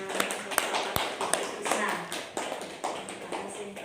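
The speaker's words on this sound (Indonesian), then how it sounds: "tepuk tangan untuk semuanya" Applause for everyone at a school gathering in an elementary school in Tegal, a dense, steady patter of many hands clapping with sharp individual claps standing out, close and fairly loud, with voices talking underneath.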